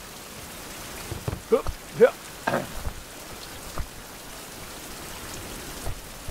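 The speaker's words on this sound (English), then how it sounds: "it's morning, but it's still flipping raining" Steady rain falls in the video game Survival Fountain Of Youth, a soft continuous hiss of drops heard throughout, with a few short voiced sounds and brief bumps over it.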